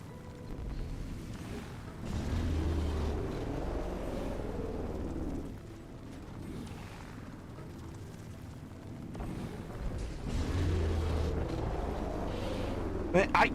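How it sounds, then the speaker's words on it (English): Fireworks going off in Guild Wars 2 during a roller beetle race: low booming bursts and rumbling swells rise and fade across the stretch, with a voice talking over them. "I guess they wanted some fireworks before July 4th."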